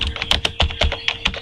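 Quick typing on a computer keyboard while writing HTML, a close, crisp run of about a dozen uneven key clicks and taps with no voice.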